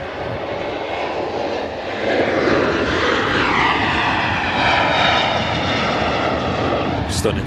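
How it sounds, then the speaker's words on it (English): Virgin Atlantic Airbus A350 taxiing in at Manchester after a flight from Orlando, a loud, steady jet engine roar with a whine that rises and shifts, heard nearby, with people talking over it. "Stunning shot of the Virgin 350 taxiing in as well. Coming in from Orlando."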